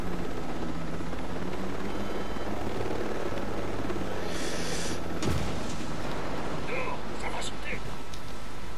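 Helicopter landing in the video game Ghost Recon Breakpoint, its loud steady rotor and engine roar filling the whole stretch, with a brief thump midway and people talking in French over it.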